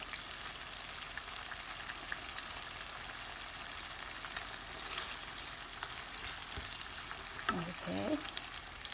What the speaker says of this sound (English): you want to keep stirring, and stir from the bottom so it doesn't stick